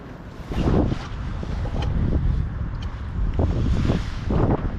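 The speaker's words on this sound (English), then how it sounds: "Man, I'm struggling in this wind." Strong gusty wind buffets the microphone on a winter bass fishing boat on Lake Norman, a constant loud roar with surging gusts and water sounds underneath.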